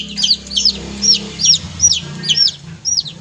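Newly hatched day-old chicks kept in a cardboard box cheep loudly and close by in a regular series of sharp high peeps, about seven calls over a few seconds, above a low background hum.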